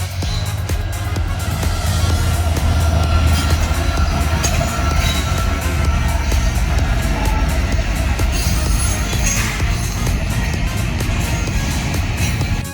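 A loud, continuous rumble of a long intermodal freight train rolling past nearby in Roanoke, heavy low roar with rattling wheels and clanking cars throughout.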